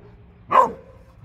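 A dog gives a single short, loud bark close by against quiet surroundings.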